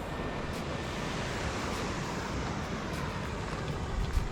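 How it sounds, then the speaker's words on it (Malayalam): Water rushes strongly at the Anchuruli tunnel, a dense, even roar that stays loud and unbroken throughout, with no voices over it. "നല്ലപോലെ വെള്ളം വരുന്നുണ്ട്"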